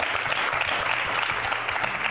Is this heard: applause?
yes